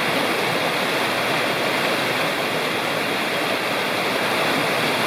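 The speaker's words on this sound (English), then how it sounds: "And beautiful creek down below." A creek rushes steadily below a forest trail on the way to Margarette Falls in Cherokee National Forest, a dense, continuous roar of flowing water close by with no voices.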